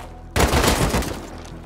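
AK rifle fire in the survival video game Rust comes as a sudden loud burst of rapid shots that rings on, then fades over about a second.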